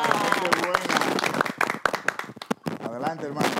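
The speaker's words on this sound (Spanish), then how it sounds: "Un aplauso" Audience applause at a Spanish-language family church program, dense sustained clapping throughout with a presenter's voice speaking over it.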